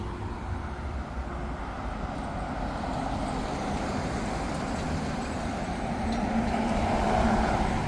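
A road vehicle passes in traffic as a steady, broadband rumble of tyres and engine, building slightly louder toward the end, with no speech over it.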